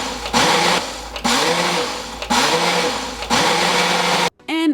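A Ninja professional 1100-watt blender pulses on its single serve setting, four loud motor bursts in a steady rhythm, each spinning up and cutting off, the whirring pitch rising within each burst before a final short whir.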